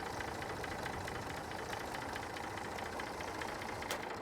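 A tractor engine idles in the Farming Simulator 22 video game, a faint, steady low rumble with a slight knocking texture that continues evenly throughout, with no speech.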